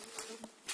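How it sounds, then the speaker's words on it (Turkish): Honeybees buzzing in flight around a hive on a mild winter day, a faint continuous drone with a few slightly louder passes as individual bees fly close. "arı uçuşu var."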